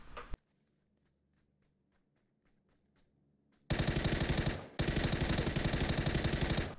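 Gunfire in the PUBG video game: a single sharp shot, a stretch of near-silence with faint ticks, then a long, dense burst of rapid automatic fire that briefly pauses and resumes, loud and close.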